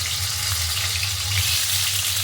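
Boiled potatoes fry in mustard oil with turmeric and salt, giving a steady, dense sizzle with a low bubbling hum underneath, continuous and close throughout with no talking.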